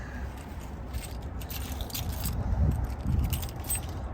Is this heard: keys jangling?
yes